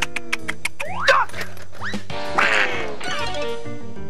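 A cartoon duck quacking loudly and close, a fast string of nasal quacks with a few longer, more emphatic squawks, alone with no talk.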